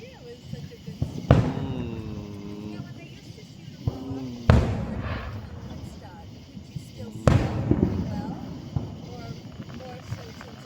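Fourth of July fireworks over downtown Woodstock, Georgia: three big booming bursts several seconds apart with crackling decay, while people nearby talk and exclaim.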